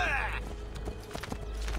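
Horse hooves clopping as a rider heads into town in Assassin's Creed Brotherhood at Monteriggioni, a short steady clatter under game ambience and a talking voice.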